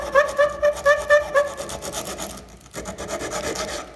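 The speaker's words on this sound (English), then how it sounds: "you can actually just use the edge of it if you wanted to, and just give it a little sand inside there." A file rasps inside a wooden finger joint in quick, rhythmic strokes, about six even back-and-forth scrapes followed by looser, quieter rubbing, close and clear with no talking.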